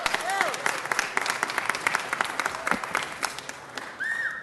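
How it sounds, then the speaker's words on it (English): Scattered clapping rises at a city council meeting, individual claps standing out fairly near and moderately loud, with voices and a few whoops mixed in. "Let's give him a big round of applause."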